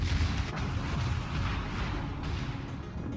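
Secondary guns of the Japanese tier 4 battleship Myogi firing in World of Warships, a dense rumbling barrage of booms and cracks rolling continuously and loudly, with no voices.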